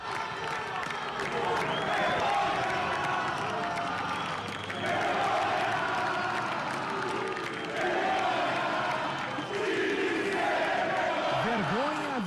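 A football crowd at Brinco de Ouro stadium during a Guarani versus Figueirense Série C match chants loudly and continuously in rising waves, with a few whistles near the end.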